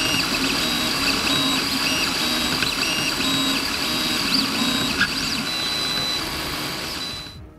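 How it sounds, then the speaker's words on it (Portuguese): A 3D printer running its original control board prints a calibration cube, a loud continuous whine and hum of stepper motors and fans with faint shifting tones, steady throughout before cutting off at the end. "este daqui é o vídeo dele com a placa original, imprimindo um cubo de calibração"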